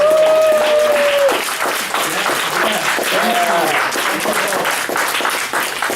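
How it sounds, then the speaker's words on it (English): A loud round of applause from a seated audience at a psychology panel event, dense steady clapping that fills the room for the full stretch, with a voice briefly heard over the start. "So can we please have a loud round of applause?"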